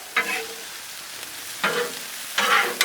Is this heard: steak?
yes